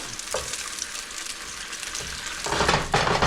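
Hotdogs frying in a pan, a steady crackling sizzle with brief stirring scrapes that grow louder toward the end, close and without voices.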